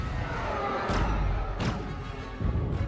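Cannon shots in a Star Wars: The Last Jedi space battle land as three heavy booming blasts, spaced under a second apart, over a dense rumbling background.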